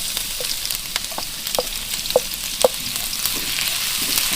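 Ginger frying in hot oil in a pan, a continuous bright sizzle with a few small pops and light utensil taps, close by with no talk.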